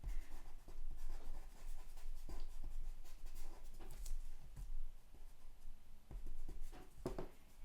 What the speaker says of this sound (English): now we're going to erase some of these lines so he doesn't look like a mechanical man